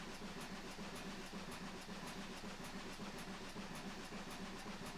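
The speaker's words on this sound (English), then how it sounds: "the train is lowering slightly in speed anyway" A West Somerset Railway train easing its speed as it nears the station, heard as a steady rolling rumble with a regular clickety-clack of wheels over rail joints, continuous and unbroken with no talk.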